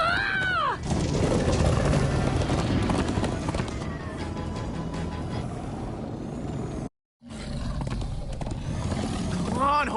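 Rhythmic clip-clop of galloping hooves pounds along with a horse whinnying at the start in Minecraft Story Mode, under a constant rumble, broken by a brief moment of silence.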